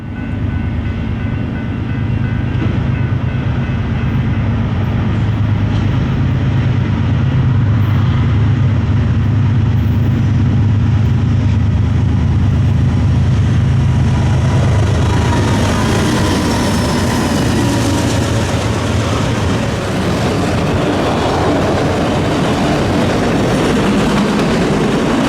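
A Norfolk Southern freight train passes at night behind an all-DC GE lash-up with a DC GEVO leading, a loud, close, continuous rumble and roar of rolling cars with steady wheel and rail noise throughout.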